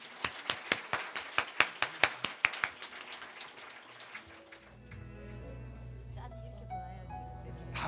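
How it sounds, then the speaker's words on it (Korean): A church congregation at an evening lay theology meeting claps in a brisk, rhythmic unison beat of about a dozen sharp hand claps, then the clapping breaks off and a voice and music-like tones take over. "하나님께 우리 뜨겁게 영광 박수 드리겠습니다"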